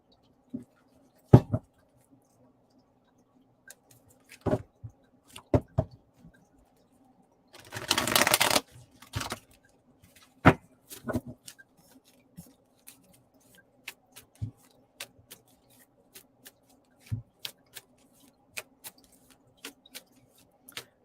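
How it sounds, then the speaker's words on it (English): Tarot cards being handled in a quiet room: a brisk burst of shuffling riffle in the middle, surrounded by scattered soft taps and clicks as cards are drawn and laid down one by one. "I'm going to start drawing some cards for you while I'm waiting to hear back"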